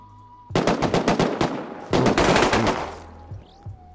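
An AK rifle in the video game Rust fires two loud rapid bursts of automatic gunfire, the second burst trailing off into echo.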